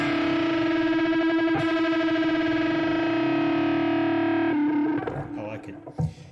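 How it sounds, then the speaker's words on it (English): A sustained, buzzing distorted tone from difference tones run through a distortion effect, steady and loud for about five seconds with a wavering, beating texture, then breaking off into brief scattered noises. "Let's see what it sounds like with distortion"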